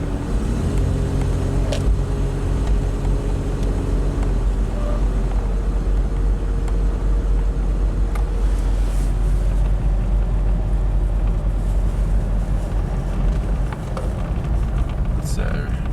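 Mitsubishi Montero 4x4 engine laboring under load, a loud steady low rumble with droning hum, close and continuous.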